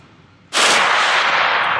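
A Beretta MX4 Storm submachine gun fires on full auto, a loud, fast continuous burst that starts abruptly and rattles on close by for over a second.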